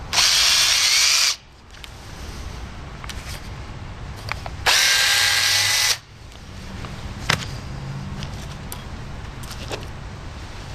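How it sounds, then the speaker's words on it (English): Two long, loud bursts from a power drill boring through the guide hole of a homemade .50 caliber blow gun, separated by quieter stretches of light handling clatter and clicks. "we're just going to drill right through the back, through our guide hole"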